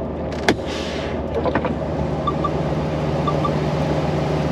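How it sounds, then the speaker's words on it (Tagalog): A pickup truck's engine idles steadily as a low hum before being switched off, with a few sharp clicks and knocks near the start, light chimes partway through, and heavy rain falling in Toronto. "Patayin ko muna tong truck para marinig ko yung sasabihin nito."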